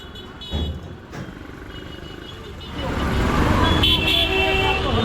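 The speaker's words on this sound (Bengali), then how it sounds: "এই যে হর্ন বাজাচ্ছে ঝগড়া করছে" Car horns honk amid loud, dense road traffic near transport offices, with engine rumble building steadily toward the end.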